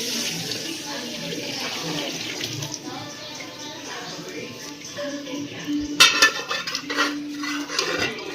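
Chicken stock water is poured into a pot of country chicken biryani, a running splash amid clinking pots and utensils, with a sharper clatter near the end and a voice speaking in the background.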